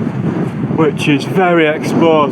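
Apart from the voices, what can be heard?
wind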